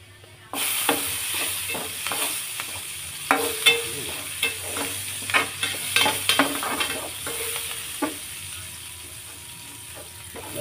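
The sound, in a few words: onion frying in pan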